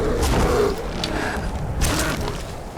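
In the video game Skyrim, a bear's low, rough growl rumbles in two swells, close and fairly loud, with creaky grinding texture.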